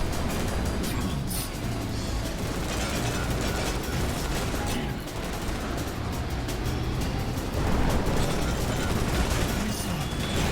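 Cannons fire in the futuristic racing video game BallisticNG, a dense stream of rapid shots buried in a loud, constant roar of engines and music.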